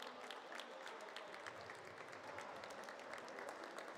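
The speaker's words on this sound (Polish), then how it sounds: "Wielkie brawa." A crowd applauds at a youth football awards ceremony as a top scorer is honored, giving steady, fairly faint clapping throughout with no voices rising above it.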